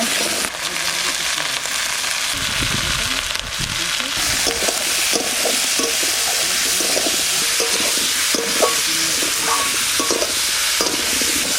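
Pumpkin pieces sizzle and spit loudly in hot oil in a pan while a spatula stirs them, a continuous bright frying hiss with irregular scraping strokes.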